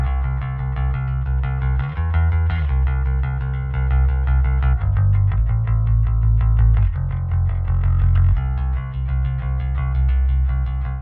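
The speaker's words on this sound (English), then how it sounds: "Let's jump into the bass guitar." Bass guitar played through an amp cabinet and captured with a Shure SM7B microphone, a loud, sustained run of deep plucked notes with a gritty, effected tone, steady for about eleven seconds with no talking.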